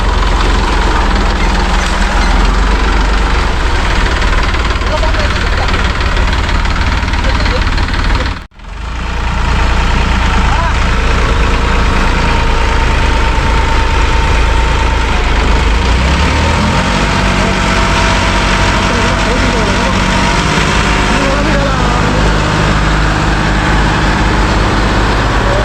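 A tractor stuck about four feet down in a farm-field pit runs its engine hard in a steady, loud drone, cutting out briefly partway through before the heavy rumble resumes and shifts lower as it strains to climb out.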